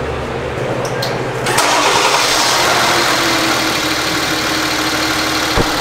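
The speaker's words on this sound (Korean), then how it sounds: "그러면 시동 걸고 두 번째 15분." Hyundai Veracruz engine cranks briefly and catches, then settles into a steady, loud, close idle with a constant low rumble and a brief click near the end.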